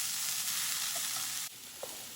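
Chicken sizzles steadily in hot vegetable oil in a pan, a continuous hiss that drops slightly partway through, with a small bump near the end.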